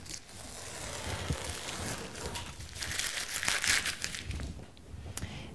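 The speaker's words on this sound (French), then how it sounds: "Je vais donc enlever mon ruban de masquage." Masking tape is peeled off a painted canvas, giving close crinkling and tearing sounds with small crackles, fairly quiet and continuous, without speech.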